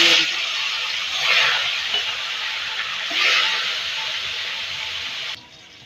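Koi fish frying in hot oil in a wok give off a steady loud sizzle and hiss, swelling in a few brief surges before cutting away near the end.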